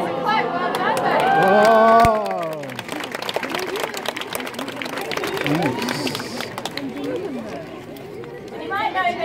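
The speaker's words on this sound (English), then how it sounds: "let's give Les a clap" An audience at a bird show at Healesville Sanctuary, Australia, gives scattered clapping for Les the parrot, mixed with crowd chatter and a presenter's voice, with brief bird calls rising over the noise.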